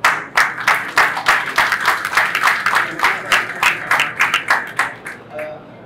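At a semiconductor facility launch, a crowd claps in a steady run of crisp, closely spaced claps that stay loud and even throughout, with no voices.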